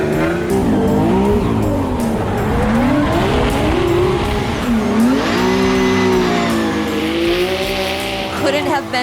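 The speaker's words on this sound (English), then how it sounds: "Have you ever been in a drift car?" A drift car on a track squeals its tires in long, wavering howls as the engine revs hard, loud and close from inside the car, with voices talking over the noise.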